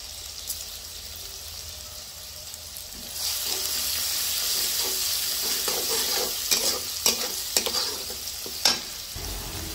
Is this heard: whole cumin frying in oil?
yes